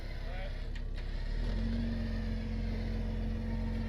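Engine of a tracked Jeep stuck in terrain, rising from idle to a steady higher drone as throttle is applied, with a person talking nearby.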